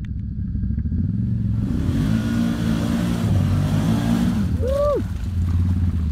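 A Kawasaki ATV engine labors and revs loudly, close by, as it climbs a steep rise on a Newfoundland crossing, ending in a quick rising whine and a shout of excitement.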